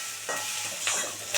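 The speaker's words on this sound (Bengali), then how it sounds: "ডিমটা ভালো করে ভাজা হয়ে গেছে" Fish roe frying in a pan while being stirred, a steady low sizzle broken by three soft scraping strokes of the spatula, close by with no voices.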